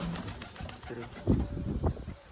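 A pigeon coos nearby in a few soft, throaty bursts over faint background talk.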